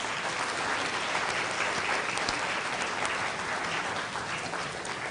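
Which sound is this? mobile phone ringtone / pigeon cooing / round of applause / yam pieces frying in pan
round of applause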